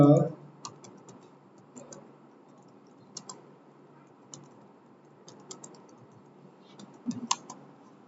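Close clicks of a computer keyboard come in short irregular bursts while an HTML form is typed, the keystrokes sounding under a soft voice that speaks at the start.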